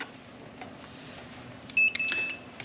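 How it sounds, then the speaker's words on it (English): Multimeter set to continuity with sound giving short high electronic beeps while probing a double combo switch, a quick burst of tones near the end after a quiet stretch of faint background hum. "I have my multimeter, and it's on continuity with sound."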